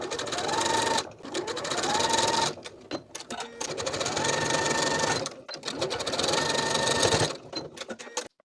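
A sewing machine top stitches a waistband seam on stretch leggings, running in steady whirring bursts broken by short pauses, close and loud throughout.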